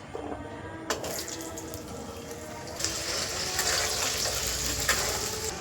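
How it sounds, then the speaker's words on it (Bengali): Carrots frying in oil in a pan while khichuri is being cooked, a dense close sizzle mixed with watery crackle that grows brighter partway through, with a few sharper spits. "তো ওই তেলে এবার আমি গাজরগুলো একটু ভেজে নেব"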